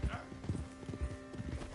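Horse hooves clip-clop in a steady walking rhythm in the video game Red Dead Redemption 2, fairly close and soft, with faint game ambience beneath.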